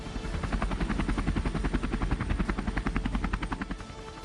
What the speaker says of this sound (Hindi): चिनूक हेलीकॉप्टर ने मेघना फॉर्मेशन में उड़ान भरी।